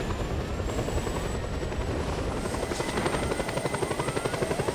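A video game helicopter in Just Cause 2, its rotor thumping rapidly and continuously over a loud engine whine, close and steady throughout.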